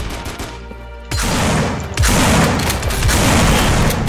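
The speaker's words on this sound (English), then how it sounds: "Yo, who's shooting me?" Sustained gunfire in the shooter game Half-Life 2 Deathmatch, a dense fusillade of rapid shots that grows louder and heavier after the first second, with no talk over it.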